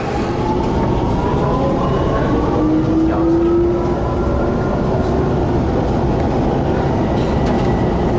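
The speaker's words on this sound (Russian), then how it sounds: "Ну что, мы вышли из метро" A Shanghai metro train rumbles steadily and loudly nearby, a continuous roar with faint rising whine tones.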